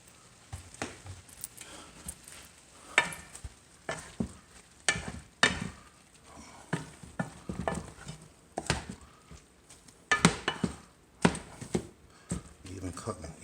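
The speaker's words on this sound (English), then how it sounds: "And this is kind of basically a stir fry." A home stir fry sizzles in a pan while a utensil scrapes and stirs it in irregular bursts, close by, with a person talking at times.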